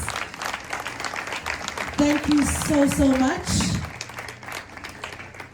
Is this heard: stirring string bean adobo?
no